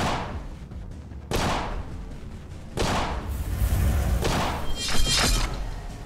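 A tactical video game produces several loud gunshot impacts, with sharp cracks and thuds striking the player's character in separate bursts a second or so apart, each followed by a brief rattling decay.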